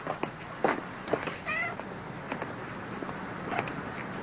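Cat meowing several times, short faint mews scattered over a quiet indoor room, with a few soft taps between calls.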